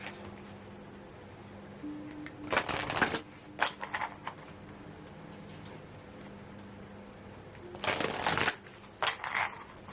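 Moon oracle cards being shuffled in two brisk riffling bursts with a few soft card flicks between them, close and clear over a quiet room.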